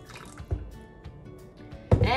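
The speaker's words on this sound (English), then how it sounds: "And then you just add some water." Water poured into a bowl of pancake batter with a cracked egg makes faint drips and trickles, then a louder splashing pour near the end.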